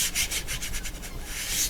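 Paint being rubbed into a landscape painting with a cloth or brush, a soft repeated scrubbing swish in steady strokes, close and fairly quiet, with no talking.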